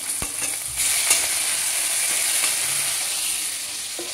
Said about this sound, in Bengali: তাই আমি একটু হালকা করে ইলিশ মাছগুলোকে ভেজে নিচ্ছি।